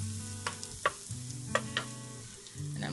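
Ginger and garlic sauté in a pan for chicken fried rice, a low sizzle broken by a few sharp spatula scrapes and clinks against the pan.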